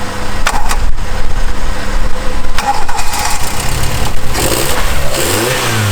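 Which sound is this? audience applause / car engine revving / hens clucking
car engine revving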